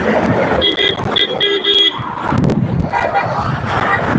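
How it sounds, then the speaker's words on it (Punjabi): Several short vehicle horn toots sound in quick succession over passing road traffic, with people talking nearby. "ਹੌਰਨ ਮਾਰ ਕੇ ਲੰਘਦੇ ਆ"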